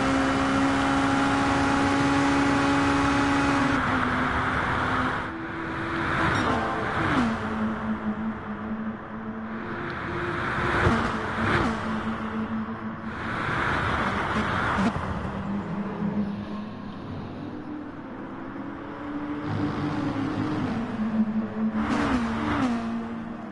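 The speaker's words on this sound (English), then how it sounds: "These cars incredibly fast around Mount Panorama." Racing cars speed around the Mount Panorama circuit at Bathurst, with loud sustained engine whine rising and falling in pitch as gears shift, repeated upshifts and revving over about twenty seconds.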